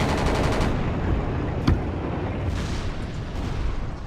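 Battlefield gunfire in a Yugoslavia-set mod battle at night near a church: steady dense rattle of shots and distant booms throughout, with one sharp louder crack near the middle, no talking.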